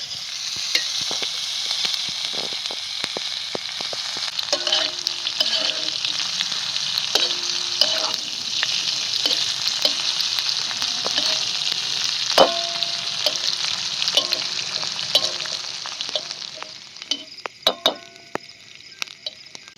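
Oil sizzling loudly in a pan for frying, a steady close hiss broken by frequent small clinks and scrapes of a utensil, with the hiss fading near the end.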